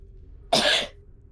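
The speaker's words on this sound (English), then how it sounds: "You're coughing up blood." A single harsh, wet cough, acted as someone coughing up blood during a tabletop role-playing dungeon session, close and loud against a quiet background.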